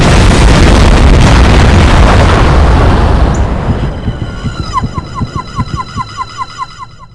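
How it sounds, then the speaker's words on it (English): A huge, sustained roaring blast in No One Lives Forever rumbles loudly, then fades into a rhythmic mechanical chugging with ringing tones as the noise dies down. "there was an explosion of unknown origin in the town of Shilling, England"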